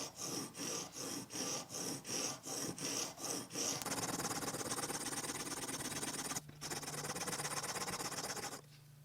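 A watchmaking lathe graver is rubbed back and forth on the coarse side of a sharpening stone, with about eight even rasping strokes at first, then a steadier continuous grinding rasp, close and fairly loud, with no talk.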